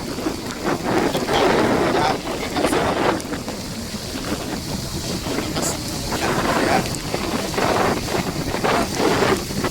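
Heavy rain with large drops falling on people caught outdoors heading home to a farm, a loud dense rushing patter with gusty wind buffeting the microphone throughout.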